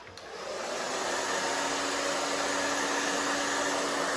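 A hair dryer blows steadily on shoulder-length thin hair to heat-activate styling product, a loud continuous airy roar that switches on at the start and holds level throughout with no talking.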